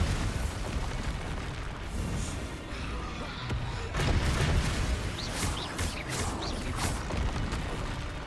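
Bombarda spell explosions in Hogwarts Legacy, dense booming blasts and crackling bursts over a busy combat mix, with a sharper blast around the middle.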